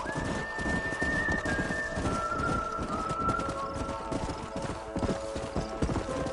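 Horses clip-clop at a trot in the Western video game Red Dead Redemption, with rhythmic hoofbeats close by, a faint whistling tone early on and light background sound.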